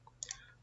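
A single soft mouse click on an apply button in a quiet room, with a faint electrical hum beneath it.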